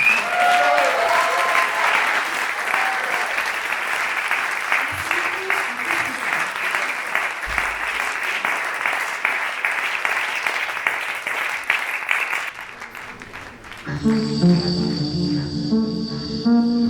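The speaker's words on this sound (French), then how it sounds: "Merci Samia, vous pouvez l'applaudir." Audience applause after a singer's performance, sustained dense clapping for roughly twelve seconds before fading, then a piano and voice begin a new song.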